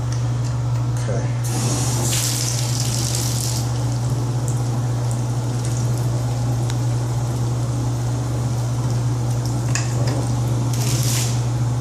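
Water flows from a toilet fixture with weak pressure after its handle is tried, a steady close hiss over a constant low hum, with a few brief clatters near the start and end.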